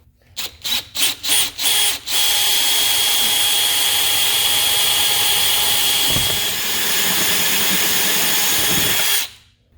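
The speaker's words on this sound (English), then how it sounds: "I'm gonna drill holes here and here" A power drill bores holes for a custom tree bar on a WJ Jeep Grand Cherokee, opening with several short bursts and then running in one long, loud, steady whine before stopping.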